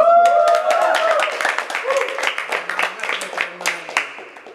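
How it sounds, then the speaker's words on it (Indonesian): Audience clapping at a Catholic talk show on scripture reading, rising in scattered, uneven claps under and after a voice, with a loose rhythmic pattern that thins toward the end. "Tepuk tangan dong untuk"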